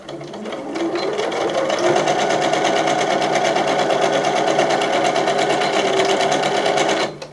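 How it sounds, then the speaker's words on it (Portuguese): A sewing machine stitches a seam on a custom bag with backstitching, running loud and close in one steady whirring, rattling drone for about seven seconds before stopping abruptly. "eu começo aqui fazendo a costura com retrocesso bem retrocessado"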